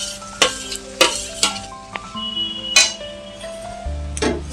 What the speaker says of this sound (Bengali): এবার আমি চিংড়ি মাছগুলো দিয়ে দিচ্ছি।